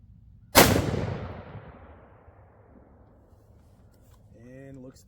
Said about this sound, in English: We are going to press on and shoot this group.